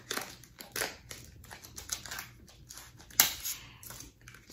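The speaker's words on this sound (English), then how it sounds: "I'm going to have to use my Fisker scissors and see if I can't open this." Fiskars scissors snipping and cutting open plastic packaging, a series of sharp, close crunching cuts and crinkles with short pauses between strokes.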